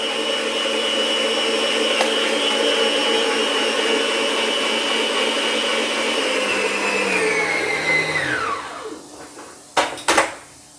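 An electric mixer whirs steadily at high speed through quiche egg custard, loud and continuous, then spins down and stops near the end, followed by a couple of clunks.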